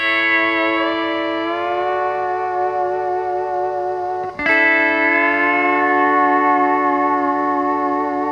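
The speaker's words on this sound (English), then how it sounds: "That's the sound of the pedal steel." Pedal steel guitar plays the intro of a 1951 country song, with sustained, sliding, reverberant chords. A brief pause falls midway before a fresh swelling chord rings on.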